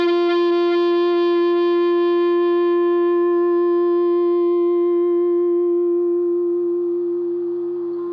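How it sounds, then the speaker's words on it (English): A single sustained electric guitar note through a Boss DS2 distortion pedal at bedroom volume, rich in harmonics and holding steady before slowly fading out, with no other sounds. "So if I was to hold a note on the DS2"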